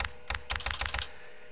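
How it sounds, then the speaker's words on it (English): Keyboard typing sounds from the computer puzzle game MHRD: two quick bursts of clattering keystrokes, close and crisp, with a short pause between and quiet afterward. "the keyboard sounds might be recorded from that kind of keyboard"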